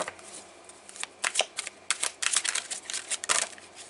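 Soul Coaching Oracle cards are shuffled by hand in quick riffling bursts, close up and crisp, with no talking.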